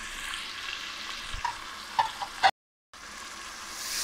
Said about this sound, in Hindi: अब इसके अंदर मैं ये टमाटर डाल रही हूँ।